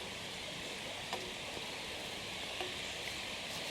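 Water running in a small feeder stream along a hiking trail in Shenandoah National Park, a steady faint broadband rush with a couple of soft ticks, no voices.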